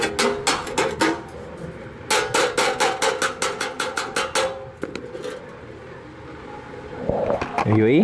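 A hammer beating a Chevrolet Opala Diplomata body panel against a dolly: two runs of rapid metallic strikes in steady rhythm, loud and close, followed by a pause and then someone speaking.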